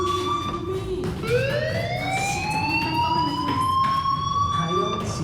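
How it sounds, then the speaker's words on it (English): An electronic alarm in Life Is Strange wails loud and steady, its rising siren-like tone sustained over a background hum and faint voices. "Hey, do you hear that fire alarm?"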